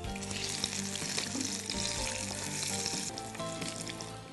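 Eggplant fritters (vankaya bajji) frying in hot oil, a steady dense sizzle and bubbling crackle held close and even throughout, with no talking.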